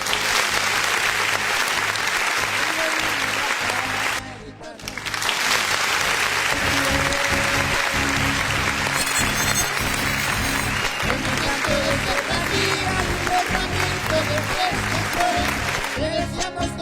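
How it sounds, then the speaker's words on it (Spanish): An audience at a huapango music event claps in a long, dense burst of applause. The clapping dips briefly partway through and then continues strongly to the end. "muchos aplausos"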